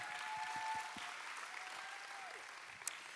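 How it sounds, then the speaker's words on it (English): Round of applause at a women's leadership conference for a volunteer, a soft distant wash of clapping from the audience, with a short sharp knock near the end. "everybody give a round of applause"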